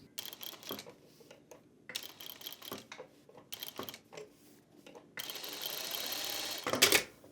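A Juki industrial sewing machine stitching a curve at a short stitch length runs in several brief rattling bursts separated by pauses, then a longer steady run that rises to a louder finish, close up.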